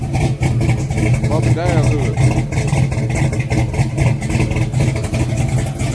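Big block car engine with a large-stroke motor and upgraded exhaust runs loud and steady, a deep rumble under someone talking throughout.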